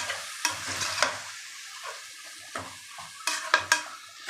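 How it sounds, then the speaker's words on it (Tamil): Tomatoes cooking down with mint and green chilies in a pan for mushroom biryani, with stirring scrapes and light sizzling broken up by sharp utensil clinks against the pot. "அதையும் இதோடு போட்டு நல்லா வதக்கிக்கலாம். நல்லா குழஞ்சி வர அளவுக்கு வதக்கிக்கணும்."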